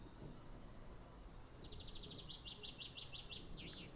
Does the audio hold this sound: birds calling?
yes